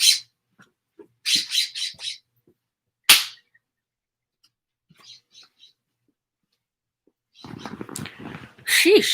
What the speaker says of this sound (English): It's a loud bluebird.